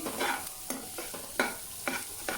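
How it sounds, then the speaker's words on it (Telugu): Green chillies and onion fry in a pan with a steady sizzle, broken by a few rhythmic scraping stirs of a spoon against the pan, close and fairly quiet. "కట్ చేసుకున్న పచ్చిమిర్చి వేసేయండి ఒక నిమిషం అలా వేగుతూనే ఆనియన్ వేసేయండి"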